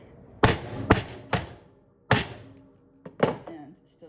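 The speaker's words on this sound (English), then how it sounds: "Still try to keep the hammer square." A hammer strikes thin metal laid on printing plate foam, giving six or seven close, sharp thuds in an uneven rhythm with short pauses between groups.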